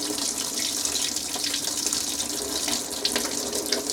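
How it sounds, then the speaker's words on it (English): Water runs steadily into a kitchen sink as a harvested exhibition show onion from an allotment is gently washed, making a continuous close splashing hiss with small irregular splashes and no voices. "I'm just going to give it a good wash"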